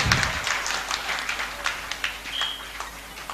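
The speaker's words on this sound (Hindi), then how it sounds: "जोरदार ताली बजाएं।" Scattered clapping from a Bharat Scout and Guide gathering in Deoband, steady and fairly light through the clip, with a short burst of voice at the start.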